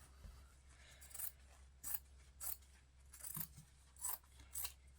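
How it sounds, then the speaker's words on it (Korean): Quiet, close snips of scissors cutting paper, a handful of crisp cuts spaced irregularly over a low background hum. "얘는 그냥 일반 가위로."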